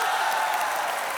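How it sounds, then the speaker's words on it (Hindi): A studio audience at a Hindi comedy show applauds, a dense, steady burst of clapping filling the room at full loudness throughout. "जोरदार तालियों से स्वागत कीजिए हमारा।"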